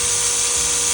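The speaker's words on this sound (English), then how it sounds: "this is where you have to drill. Bit of pilot hole through now" A Bosch power drill bores a pilot hole while a controller is fitted to a KTM 1290 motorcycle, giving a steady, loud, high-pitched whine that holds constant for the whole second, up close with no talk.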